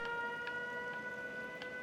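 An alarm siren in Fallout 4, a base-built security system, wails with a steady electronic tone and faint periodic pulses, playing alone at moderate volume over a brief stretch.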